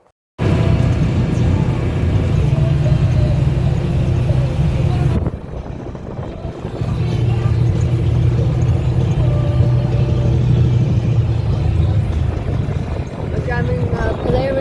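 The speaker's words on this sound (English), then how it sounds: "We're driving Polaris right now." A Polaris off-road vehicle drives along at a campsite, its engine and tire rumble a steady, loud low drone that dips briefly midway before resuming, with no talk over it.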